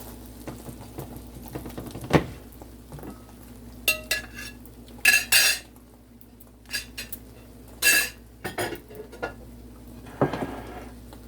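A utensil scrapes and taps around a frying pan as an egg omelette is spread over the surface. There are intermittent metallic clinks and scraping strokes with quiet gaps between them.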